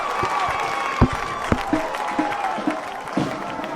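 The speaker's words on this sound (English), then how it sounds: "I can hear the roar of the crowd in my headset" A crowd at a high school football game between North Haven and Cheshire roars after a big first down, with broad cheering and scattered sharp claps throughout, and a voice faintly audible over it.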